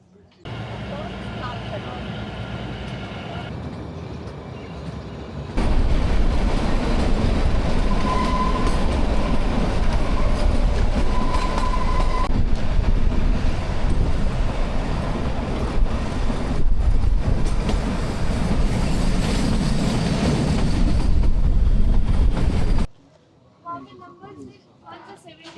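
The 52451 Shivalik Deluxe Express runs on the narrow-gauge Kalka–Shimla railway, a loud, steady rumble and clatter of wheels that swells after a quieter start and cuts off sharply near the end.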